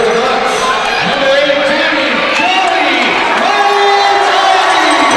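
A crowd at a junior hockey game in an arena nicknamed the Madhouse on Hickman cheers after a kick save, a loud sustained roar with whoops and shouts filling the rink.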